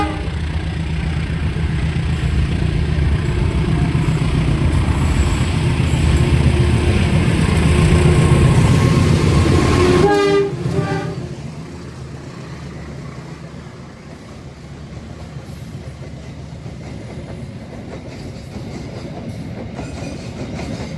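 An Indonesian passenger train, a stainless-steel New Generation set, rumbles loudly past on double track, its steady roar breaking off suddenly into a quieter rolling clatter as the cars go by.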